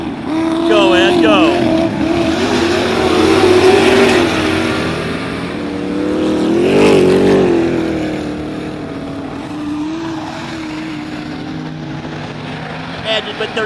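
Superstock race cars roar around Barona Speedway during a main event, engines swelling and fading as the pack passes, loud and continuous beneath an excited announcer's commentary.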